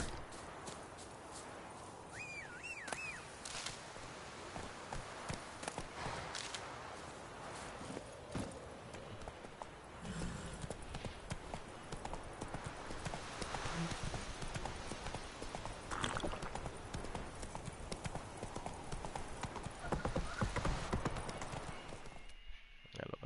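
Horse hooves clip-clop at a quick, galloping pace through The Witcher 3: Wild Hunt game audio, a steady rhythmic run of hoofbeats with faint game voices speaking over them.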